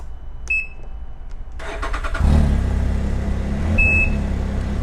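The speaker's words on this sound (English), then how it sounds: "I'm gonna start it up, and we're gonna check out the sound of this new exhaust" A Can-Am Ryker with a new exhaust cranks and catches, then settles into a steady, rumbling idle close by, with a brief electronic beep near the start.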